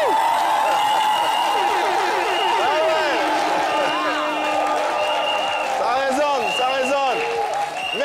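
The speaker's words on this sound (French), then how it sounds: "Elles vont s'applaudir bien fort" Audience applauding loudly and continuously for a women's association from La Rochelle at a live event, with shrill cheering and whooping voices rising over the clapping.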